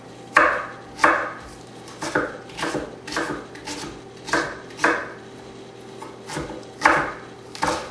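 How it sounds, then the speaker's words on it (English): An onion being finely chopped with a knife on a board, sharp distinct thuds repeating at an uneven, roughly one-per-second pace, close and clear with a faint steady hum underneath and no talk. "then you just want to kind of chop it up"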